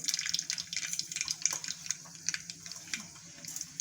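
Mustard seeds dropped into hot oil for an eggplant curry crackle and spit in a pan, giving a busy, uneven run of small pops and hissing spatter, heard close with no talking.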